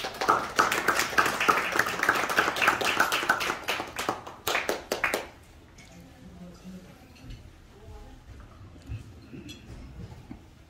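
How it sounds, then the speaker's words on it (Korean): At a professor's book launch event, the audience applauds an editor for about five seconds, a full burst of clapping that tapers with a few final claps, followed by near silence with faint room sounds. "박수로 좀 환영해 주시기 바랍니다"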